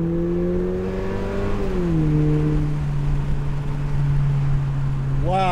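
Lexus IS or RC with an axle-back exhaust running at a steady, moderate drone, the pitch sliding down after a brief rev and then holding an even low hum, with a faint whine near the end.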